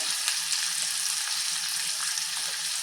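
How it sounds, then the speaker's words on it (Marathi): Onion and green chillies fry in hot oil in a pan for a tempered leftover rice dish. The loud, close, steady sizzle carries no talk. "थोडासा कांदा आपण परतून घेऊया गुलाबीच्या रंगावरती"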